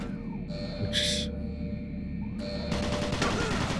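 Automated turret in the Doom 3 video game firing rapid bursts of gunfire over a steady mechanical game hum, with one short burst early on and a longer, denser volley near the end.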